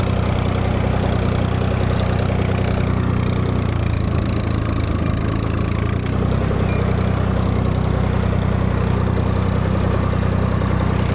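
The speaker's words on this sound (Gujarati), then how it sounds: "વિડીયો આમ તેમ થાય તો માફ કરજો કેમ કે ટ્રેક્ટર ચાલુ છે" A tractor engine runs steadily in a farm field, a continuous low mechanical drone that stays loud and close throughout, with no voices.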